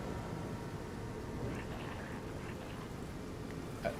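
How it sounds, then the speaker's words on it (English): Steady, soft rushing water in a video game, set in the Luculla Mines, like a gentle stream or trickle, continuing evenly throughout with faint splashy flecks. "Oh, I hear water."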